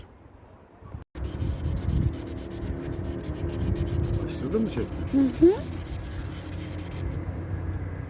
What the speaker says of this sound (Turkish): Şimdi ilk olarak en küçük zımpara numarası 400'lükte zımpara yapıyoruz.